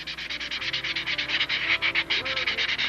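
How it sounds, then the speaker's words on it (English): Sandpaper rubbed steadily over a tissue-covered wooden model aircraft wing, a close rhythmic rasp of quick back-and-forth strokes, about fifteen passes in three seconds, with no voices. "And that's about all the sanding needs to be done."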